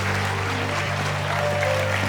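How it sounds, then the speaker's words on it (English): Conference audience applauding speakers at an employer branding event, a steady, even roar of many hands clapping together across the whole stretch, with a faint electrical hum underneath. "Give them a round of applause."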